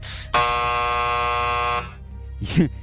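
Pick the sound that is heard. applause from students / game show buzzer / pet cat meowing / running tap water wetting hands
game show buzzer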